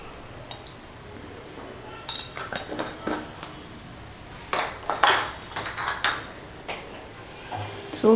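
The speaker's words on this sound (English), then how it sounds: "So give this a nice good mix" Mutton masala curry with cumin and coriander powder stirred in a vessel, a spoon clinking and scraping against the pot in a loose, irregular series of close metallic knocks, without talk.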